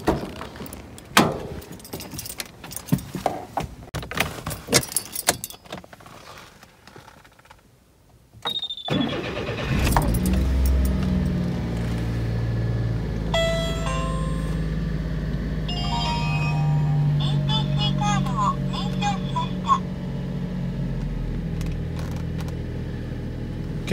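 Keys jangle in a burst of bright metallic clinks, then a mini car's engine starts and settles into a steady mid-pitched drone, with small rattles and ticks over the running motor.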